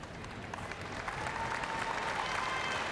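A curling arena crowd in Regina at the 2001 Canadian Olympic Curling Trials men's final breaks into applause, a steady wash of many hands clapping that swells and holds loud throughout.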